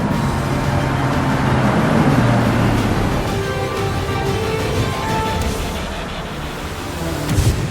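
A Porsche Panamera GTS laps a racetrack, its engine a loud, sustained drone that holds steady with slight swells and shifts, close and continuous with no voices over it.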